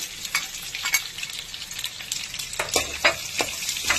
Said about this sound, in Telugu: ఇప్పుడు ఇవి వేగుతా ఉండేటప్పుడు మనం పచ్చగా దంచుకున్న వెల్లుల్లి, 2 ఎండుమిర్చి వేసేస్తున్నాను.